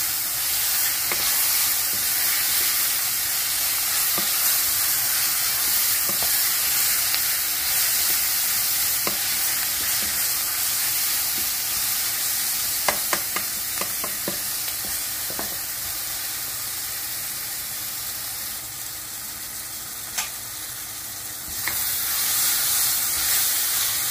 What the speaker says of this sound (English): Then you give them a stir.